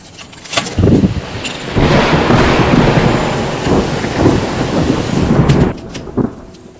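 Loud, steady downpour with a deep rumble of thunder rolling through, heavy and close, easing off near the end.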